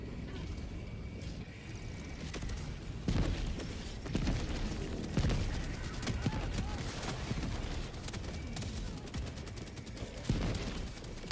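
Video game gunfire rattles out in repeated bursts and sharp shots across the whole stretch, loud and close, with a busy mechanical clatter between volleys.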